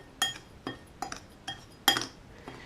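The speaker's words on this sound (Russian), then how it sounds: "И перемешиваю." A spoon clinks against a glass bowl while spices for hot-smoking carp are stirred, giving five or six sharp, close taps at an uneven pace with quiet pauses between them.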